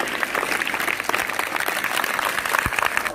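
Applause for students at a government school event in India: a crowd claps loudly and steadily at close range for the full three seconds, with no voices over it.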